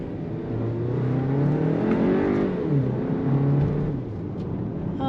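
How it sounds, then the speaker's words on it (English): A Volkswagen Tiguan's four-cylinder engine hums and accelerates, its tone rising smoothly then dropping as it shifts, heard from inside the car at moderate volume. "Engine just sounds like a typical 4-cylinder."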